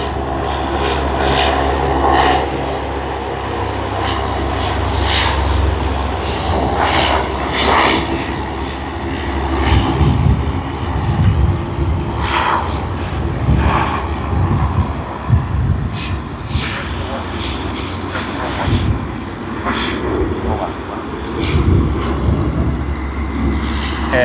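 A Rex airliner's propeller engines roar at Sydney Airport, a loud, sustained droning rumble that holds steady and swells slightly over about twenty-four seconds, heard from nearby.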